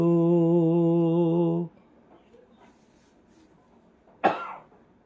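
A sustained sung note cuts off, followed by quiet, then a single sharp cough close to the microphone.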